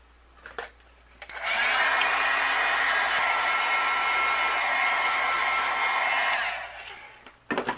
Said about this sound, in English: I'll use my heat gun, and we're going to go ahead and melt this